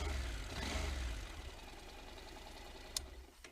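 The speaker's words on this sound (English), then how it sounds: "If I just start her up, and you might as well hear it now, mightn't you? See, it's very chugga chugga chugga." A Honda NC700X motorcycle engine idles right after start-up with a steady, low, chugging throb close by, alone and without talk, plus a brief sharp click near the end.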